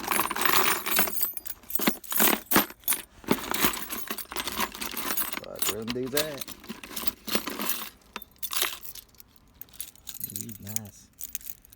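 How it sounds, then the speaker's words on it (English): A bunch of scrap metal keys jangling and clattering in repeated bursts as they are rummaged through, sharp metallic clinks close by, with someone talking in between. "I threw a bunch of scrap keys."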